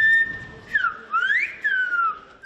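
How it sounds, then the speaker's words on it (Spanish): Silbo Gomero, the whistled language of La Gomera in the Canary Islands, sounds as a loud, clear human whistle that holds one tone and then glides up and down in several connected phrases, close and alone without speech. "se comunican perfectamente mediante el silbo gomero"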